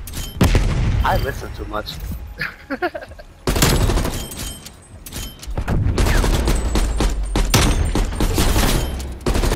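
Draco gunfire in Call of Duty: Black Ops Cold War, with loud bursts of shots and booms through much of the clip, mostly under excited voices talking over the action.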